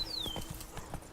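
Roach the horse from The Witcher 3: Blood and Wine trots along, giving a quick run of soft, close hoof clops under a brief falling whistle-like tone.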